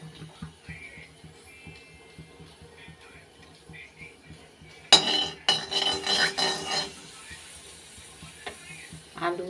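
Whole cumin, dried chilli and bay leaf dropped into hot oil burst into a loud sizzle that crackles and fades in waves, following quieter kitchen clatter and faint speech.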